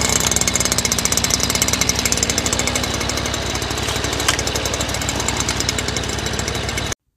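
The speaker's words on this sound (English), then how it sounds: "Get my trimmer warming up here." A string trimmer's small two-stroke engine warming up, idling with a fast, steady rattling pulse that stays loud and close, then cuts off abruptly at the end.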